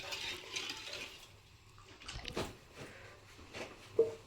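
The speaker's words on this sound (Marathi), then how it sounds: "आता याच्यामध्ये ह्या डब्यामध्ये ओतायचं, ओतून घ्यायचे" Fresh cow's milk, drawn after a calf's birth in a village home, is poured into a metal container, giving a quiet, uneven liquid splashing with a few soft knocks and clinks.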